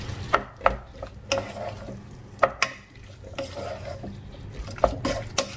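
A spoon stirs tomato curry with turmeric and chili powder in a pan, scraping and clinking against the metal in irregular sharp knocks over a soft low simmer, close and moderately quiet.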